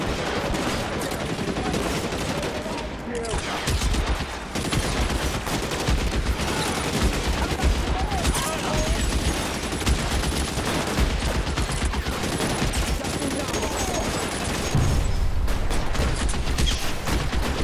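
Gunfire in the video game L.A. Noire, a dense, continuous run of overlapping shots and bursts over a busy game soundtrack, loud and sustained throughout with no clear talk.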